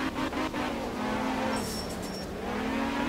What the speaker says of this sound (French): on n'entend que le moteur